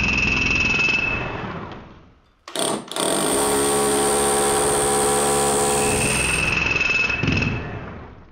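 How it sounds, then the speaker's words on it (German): A power drill with a 12 mm bit bores into a masonry wall with a loud, steady grinding whine. It stops briefly, then starts again and runs on strongly at close range. "Wir brauchen einen 12 mm Bohrer."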